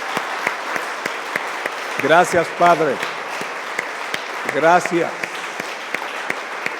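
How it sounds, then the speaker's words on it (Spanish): Church congregation applauding in a Spanish-language service: steady broadband clapping throughout, with someone speaking briefly over it twice. "¿Le podemos dar un aplauso al Señor por ello?"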